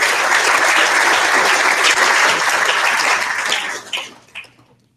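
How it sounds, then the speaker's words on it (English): A banquet audience at a 2015 men's soccer awards reception applauds honorable mention selections, dense steady clapping that tapers off and dies out with a few final claps near the end. "Let's give one more round of applause to our 2015 Missouri Valley Conference Honorable Mention selections."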